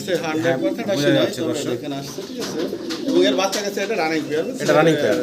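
Pigeons, including Red Indigo Andalusians, coo in overlapping, rolling calls close by, with people talking steadily over them throughout.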